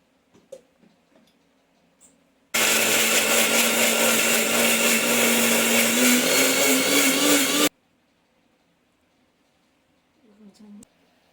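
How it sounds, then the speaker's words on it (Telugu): A mixer grinder whirs loud and continuous for about five seconds, grinding mint, coriander and green chillies without water, with quiet kitchen sounds and brief speech before and after. "ఇక వాటర్ వేయకుండానే"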